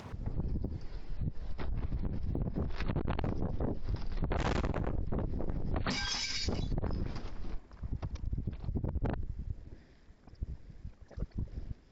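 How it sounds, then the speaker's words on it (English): Strong gusting wind buffets close by, roaring and rumbling in uneven bursts that ease off toward the end. "The wind's picking up, I'm sure you can hear"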